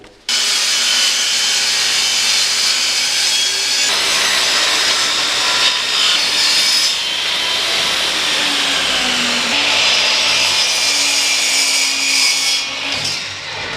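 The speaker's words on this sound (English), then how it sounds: "now I need to cut the front and rear rail for the header board" Saw cutting wooden rails for a Murphy bed header board, one real wood and one plywood, a loud continuous close rasping cut with a motor hum that runs throughout.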